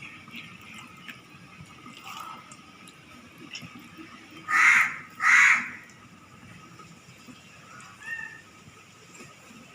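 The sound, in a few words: crows cawing outdoors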